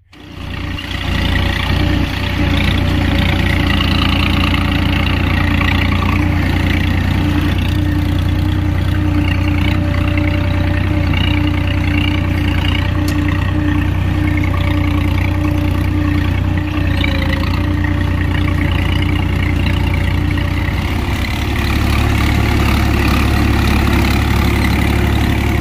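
A low-power tractor engine runs steadily in a field, a loud continuous idling rumble close by with no speech.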